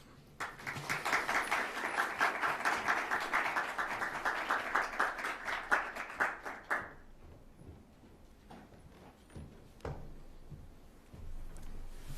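An audience applauds steadily for about seven seconds to welcome a District of Columbia Deputy Mayor at a NASA headquarters naming ceremony, then the clapping tapers off into a few scattered claps and quiet room noise.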